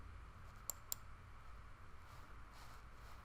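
Two quick, faint mouse clicks close together early on, setting up a new record in the Tryton ERP software, followed by steady low room hiss with no talk.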